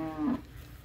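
A cow on a farm gives a single short, close moo that slides downward in pitch, heard alone over faint background hum.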